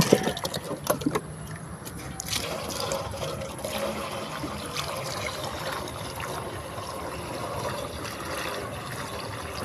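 Tap water from a municipal supply pouring and splashing into a container for mixing 2,4-D herbicide, a steady close trickling rush with a few clunks at the start, moderately quiet throughout.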